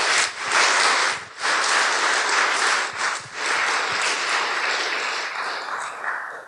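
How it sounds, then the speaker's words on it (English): Audience at an election-themed panel event applauding two presenters, sustained loud clapping from a full room with brief dips, continuing steadily and fading slightly toward the end. "let's give a warm round of applause to Lauren and Mike"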